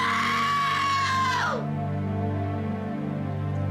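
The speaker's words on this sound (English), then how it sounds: "That is definitely a scream that will live in my head forever." A woman lets out a loud, long, high scream that bends downward and breaks off, followed by a lower sustained wail, close and alone without speech.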